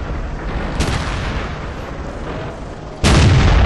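A heavy tank cannon firing in World of Tanks, a Churchill 7 in battle: a sharp, loud boom near the start and another heavy blast near the end over a constant low engine rumble.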